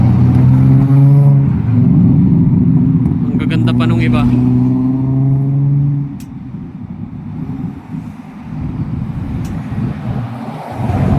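Rush-hour car traffic at a busy intersection near Falcon Bridge in Canada, engines idling and pulling away with a steady hum and passing vehicles, while someone talks over it throughout.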